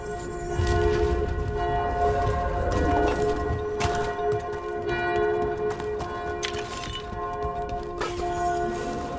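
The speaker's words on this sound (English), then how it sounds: "You hear that? Must be the bell tower." A bell tower in the fantasy video game Dragon Age rings with sustained, resonant tolls. The strikes recur at intervals and overlap into a steady metallic hum, with some background game rumble beneath them.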